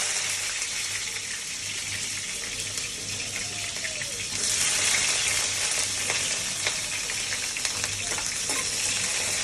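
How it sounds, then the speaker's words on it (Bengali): Onions sizzle and fry in hot oil in a wok while beef is being cooked, a steady close hiss that grows louder and denser partway through, with faint stirring clatter. "প্রথমে আমি তেল কড়াইতে দিয়ে দিছি, এবার আমি বাগার দেব পেঁয়াজ দিয়ে।"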